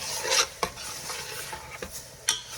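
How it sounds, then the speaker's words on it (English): Minced beef fries on a high flame for spicy keema aloo, stirred with a few sharp scraping strokes against the pan over a constant close sizzle, with no talking. "I'm just going to stir it for a few minutes on a high flame"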